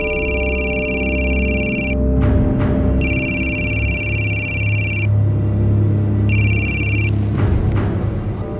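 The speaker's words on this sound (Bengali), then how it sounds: "হ্যাঁ, বিশ্বনাথ দা আমায় ফোন করেছিলেন" A telephone rings in a crime drama scene: a series of electronic, buzzing ring bursts of about two seconds each, separated by short gaps, over a low background rumble.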